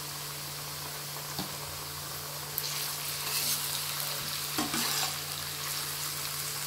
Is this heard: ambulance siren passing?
no